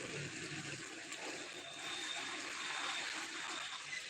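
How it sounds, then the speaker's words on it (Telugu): Floodwater from heavy rain gushes in a continuous loud rush, a dense steady wash of water noise with slight surges, close and alone with no talking. "చూడండి ఎలా వస్తున్నాయి వాటర్ అసలు రేంజ్లో వస్తున్నాయి వాటర్"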